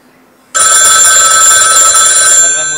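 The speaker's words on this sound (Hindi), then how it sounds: "ज्यादा फोन तो इकरामों के आते हैं" A telephone bell rings loudly and steadily in a home, starting abruptly after a quiet moment and continuing without pause as a single sustained ring.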